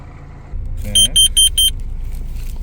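A carbon monoxide detector inside a tent heated by a stove sounds four quick, high electronic beeps in a row over a low background rumble.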